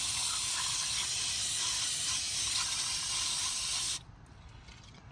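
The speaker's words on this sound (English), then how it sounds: "Then what I do is I spray it down with brake cleaner." Brake cleaner sprays in a steady loud hiss over a minitruck's brake master cylinder for about four seconds, then cuts off, leaving faint shop noise.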